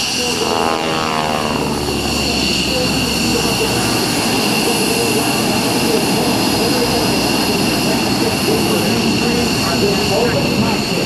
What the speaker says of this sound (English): Open cockpit, 220 horsepower airplane.